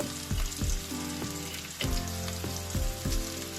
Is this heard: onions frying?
yes